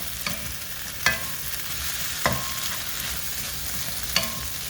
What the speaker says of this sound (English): I always just kind of stir it in with the meat